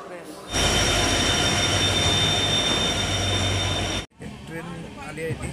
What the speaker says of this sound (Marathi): बघा वंदे भारत जम्मू तवीला आले.